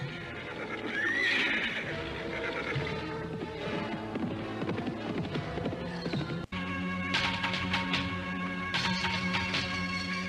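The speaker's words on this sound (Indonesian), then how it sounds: "Setelah beberapa saat berkuda, tibalah mereka di rumah Lohbarda di pusat keramaian kota Jatitujuh." Horse whinnies loudly early on, followed by hoofbeats and continued horse sounds over a busy, layered sound-effect bed in an Indonesian audio drama scene of riders arriving in a crowded town, with a brief dropout midway.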